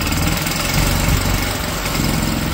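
Engine of an RC6813TE machine being throttled up, a steady loud droning motor hum with strong low rumble and mechanical vibration, running continuously and alone without talk.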